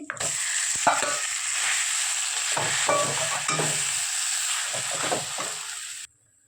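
Ground green pea paste fries in a kadai of ghee and spices, a dense, steady sizzle broken by repeated scraping stirs, stopping suddenly near the end.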